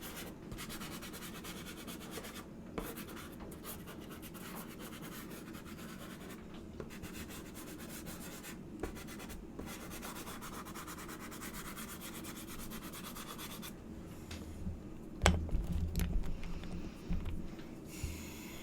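Steady scratchy rubbing of a drawing tool over a painting while clouds are filled in, a continuous close, even texture lasting throughout with a louder scraping flurry near the end.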